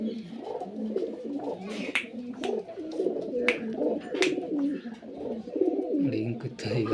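Pigeons cooing in a loft where birds are kept for sale, a steady, close run of throaty, overlapping coos with a few sharper calls on top.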